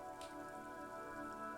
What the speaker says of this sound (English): A silvery curtain of rain over the houses.